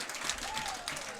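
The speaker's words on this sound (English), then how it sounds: "They're applauding their offensive line." Parents in the stands at a college football game applaud their offensive line, a faint, distant patter of clapping from the crowd that lasts about a second, with a voice over it.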